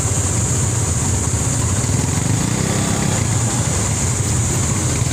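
A steady, loud rumble of idling and running engines, like motorcycles in slow traffic, with a constant low drone and no voices.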